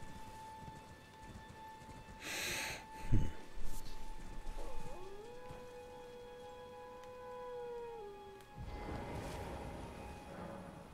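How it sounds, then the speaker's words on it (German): A dog howls in the video game Elden Ring, a drawn-out wavering cry over a steady ambient drone, with a few soft thumps and a rustling swell around it and no talking. "Ein Hund."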